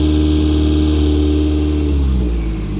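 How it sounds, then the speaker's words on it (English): A Toyota MR2 engine with a lean-running fault runs loud and close at high revs with the throttle open, holding a steady droning tone before the pitch begins to drop slightly at the end. "I'm just opening the throttle"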